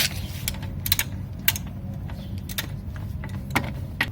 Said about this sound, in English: we'll use this wrench to open up the nut